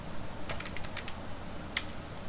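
Fingers tap on a computer keyboard in a quick, faint burst of keystrokes, then a pause before one louder, isolated key press.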